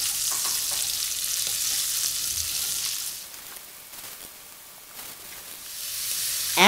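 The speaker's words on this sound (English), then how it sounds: "add 1/4 portion of the marinated beef, about 3 ounces, and stir for about 1 minute" Marinated beef sizzles loudly in melted butter in a pan, a strong frying hiss with stirring scrapes that eases off midway and then swells again near the end.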